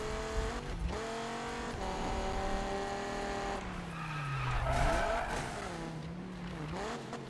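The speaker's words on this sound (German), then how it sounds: "Also ich mag den Sound mit dem V10." A Dodge Viper's 8.6-litre V10 drones in Need for Speed on PS4, its engine note rising and falling as the tires squeal through a long drift, loud and continuous with no talk.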